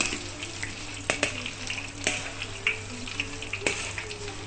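Anchovies fry in oil with a quiet, steady sizzle, broken by scattered sharp clicks and pops of stirring or spattering.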